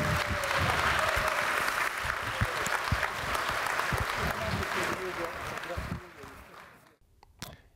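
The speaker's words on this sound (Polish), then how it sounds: "jeszcze raz wielkie brawa" Audience applause after a lecture by a professor on allergy, dense clapping that thins out and fades, with a voice briefly speaking over it near the end.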